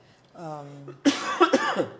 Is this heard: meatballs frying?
no